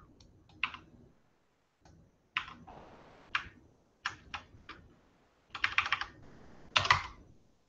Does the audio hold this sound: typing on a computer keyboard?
yes